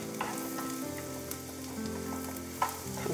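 Garlic fries in butter in a pan with a continuous soft sizzle and crackle, plus a couple of light stirring taps, no voices.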